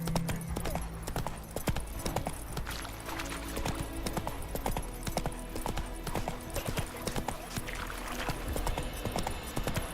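A horse gallops in The Witcher 3 video game, with steady, rapid hoofbeats at close range throughout.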